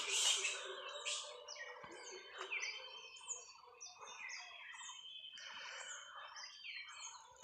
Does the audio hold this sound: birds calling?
yes